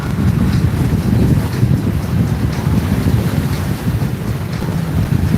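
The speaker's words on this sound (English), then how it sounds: "You can hear that exhaust of that propeller whizzing up as they come away from the water there" Racing powerboat engines and propellers roar across the water at a Torquay race, a loud, continuous rumble with heavy wind buffeting the microphone throughout.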